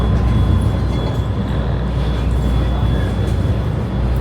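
Riding a train bound for Sepang Circuit in Malaysia, with a loud, steady rumble of the carriage filling the cabin and a faint high tone running through it.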